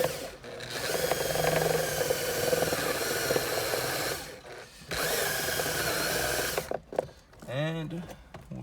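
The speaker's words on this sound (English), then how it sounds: "Now if you're drilling, just make sure you don't go too far down and hit your dash" A power drill whirs steadily for several seconds boring a small hole in a Mazda BT50 dashboard, pauses briefly, then runs again before winding down with a few short bursts, close and loud.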